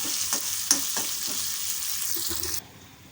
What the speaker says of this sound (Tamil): எல்லாமே நல்லா தாளித்து ரெடியாகட்டும்